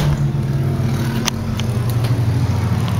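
Loud motorcycles passing outside, a steady heavy engine drone that stays strong and constant throughout, with a few faint clicks above it and no talking.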